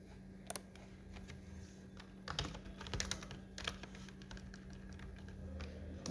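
Someone types on a computer keyboard while writing in MS Word, producing scattered light key clicks in short bursts with pauses between them. The sound is close but quiet, over a low steady hum.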